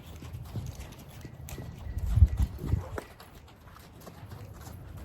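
Hooves of a young horse clip-clopping outdoors, a loose run of moderate thuds that swell in the middle and ease off, with faint movement around them.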